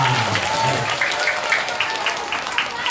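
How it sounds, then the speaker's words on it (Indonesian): Applause at an elementary school religious lesson, a steady mass of clapping hands filling the space, with children's voices calling out beneath it. "tepuk tangan buat kalian semua"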